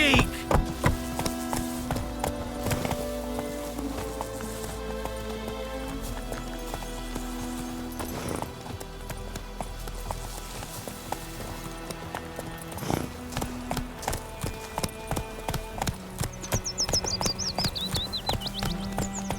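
Roach the horse gallops in The Witcher 3, a rapid run of clip-clop hoofbeats over music and game sounds, with occasional whinnies and voices talking at points.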